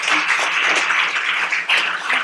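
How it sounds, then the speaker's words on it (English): Applause from an audience at a presentation on Donatello in Florence, a dense, steady wash of many hands clapping together throughout, loud and sustained with no voices over it. "Let us give our applause to Michael Martin"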